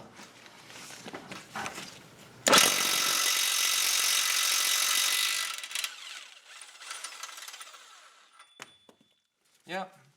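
A ratchet working a rusty 19mm bolt on the front subframe of a BMW E32 735iL, a dense burst of metallic clicking for a few seconds, close and loud, with scattered clanks of tools around it and a voice briefly at the end.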